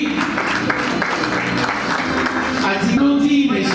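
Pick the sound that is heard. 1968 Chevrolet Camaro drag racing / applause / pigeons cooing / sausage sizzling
applause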